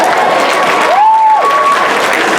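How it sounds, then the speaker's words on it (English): Audience applause at a comic expo panel, a short burst of clapping that fills the moment at a steady, fairly loud level, with a faint tone briefly sliding through it. "That deserves applause."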